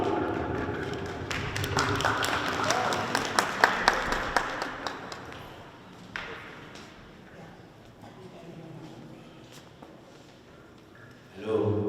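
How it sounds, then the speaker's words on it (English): Applause at a flag raising ceremony in Togo rises into a dense patch of clapping that thins into scattered claps, heard outdoors at moderate distance before speech resumes. "Can I have a round of applause, please?"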